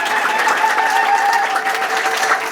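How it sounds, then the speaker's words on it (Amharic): A church congregation claps together in steady, continuous applause during a prophetess's preaching service, fairly loud and close, with a faint voice beneath it. "አጨብጭቡላት በጌታ"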